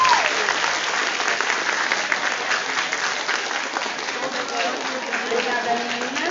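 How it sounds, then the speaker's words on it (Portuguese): Dense, sustained applause from a crowd fills the clip, steady and loud throughout, with faint voices mixed in. "Agora podem aplaudir oficialmente."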